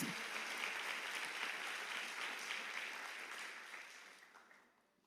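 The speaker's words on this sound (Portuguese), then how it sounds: "Amém, aplauda o Senhor, amém, glórias a Deus." A church congregation at a women's conference applauds, steady even clapping from many hands heard at a distance, fading out over the last second.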